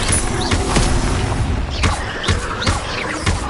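Levioso spell cast in Hogwarts Legacy amid game combat, a loud whooshing burst followed by a series of sharp booming impacts and crunchy hits at irregular intervals.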